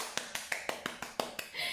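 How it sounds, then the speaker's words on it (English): A single person claps repeatedly at home, about eight crisp, close, evenly spaced claps in quick succession, ending in a brief burst of room noise. "Let me give you a clap."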